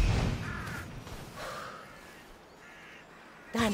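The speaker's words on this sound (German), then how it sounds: "Und wieder sehr viele Raben." Crows or ravens caw a few times in Assassin's Creed Odyssey, harsh calls at moderate distance separated by pauses over quiet ambience.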